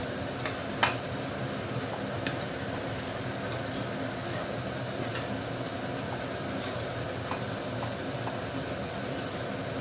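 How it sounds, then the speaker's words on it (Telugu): Egg fried rice being stirred and tossed in a pan, a steady close sizzle with scraping and the occasional clink of a spatula, running without pause and with no talk. "మంచిగా కలుపుకోవాలండి అన్నీ మంచిగా."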